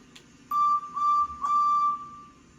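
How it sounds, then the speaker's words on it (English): A steam-style train whistle from the Roblox railway game Nowhere Railways sounds in three short tonal blasts, the second and third running together and fading out, clear and alone over a faint background hum. "So what Edward's going to do now is going to give you a quick whistle"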